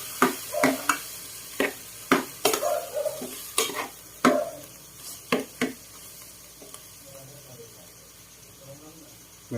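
Beef innards and skin are stirred in a pot for papaitan, with repeated sharp scraping and clattering strokes over a soft sizzle, then a quieter frying stretch.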